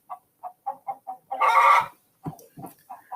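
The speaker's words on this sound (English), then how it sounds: "There's a chicken around here." A nearby chicken gives a run of short, evenly spaced clucks, then breaks into a louder drawn-out squawk before returning to a few more clucks, close and clear with no talk over it.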